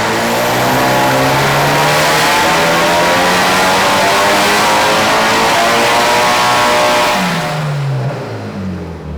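A Mitsubishi Evo 8 engine with its boost turned up revs hard and holds a loud, sustained high drone for several seconds before dropping back toward idle, close up with no voices.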